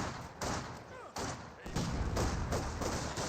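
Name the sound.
landmine detonation in Company of Heroes 2 video game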